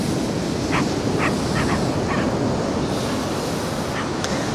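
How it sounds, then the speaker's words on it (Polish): Steady roar of large ocean waves crashing on Porthcurno beach in Cornwall with constant wind noise, close and loud, with a few faint higher calls briefly poking through. "Jakie fale"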